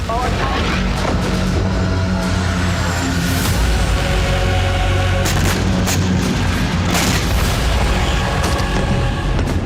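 Deep rumbling booms and blasts from Israeli airstrikes near Beirut, Lebanon, roll continuously beneath dense noise, with repeated heavy impacts and scattered cracks throughout, loud and chaotic.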